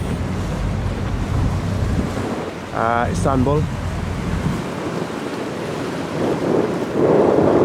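Wind and surf wash over open water of the Bosphorus in Istanbul from a luxury yacht, a steady broadband rush with wind buffeting the microphone, briefly interrupted by a short spoken phrase in the middle.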